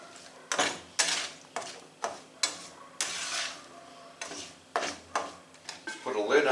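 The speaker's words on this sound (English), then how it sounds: "That quick stir." Hamburger meat being stirred briefly in a pan, with a series of utensil scrapes and clinks against the metal at a steady rhythm, close and moderately loud.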